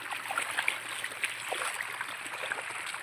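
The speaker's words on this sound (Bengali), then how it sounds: "পাইপের ভিতর দিয়ে জল আসছে" Steady broadband rush of water pouring through a field irrigation pipe fed by a pump, continuous and fairly even, with faint bubbly trickles and splashes on top, heard at moderate distance with no voices.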